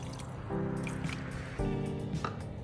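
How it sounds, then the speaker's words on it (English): Water being poured into a seasoned ground beef mixture for meat pie filling, giving soft wet drips and squishy splashes in short bursts, close and quiet. "I'm going to add a little bit of water"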